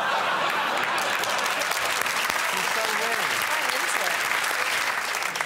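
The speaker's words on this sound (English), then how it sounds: "I do not know what they're applauding." A television studio audience at a comedy panel show breaks into sustained, dense applause that holds steady at full volume throughout, with a few scattered chuckles mixed in.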